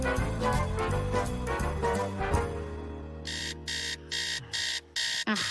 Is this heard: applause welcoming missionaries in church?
no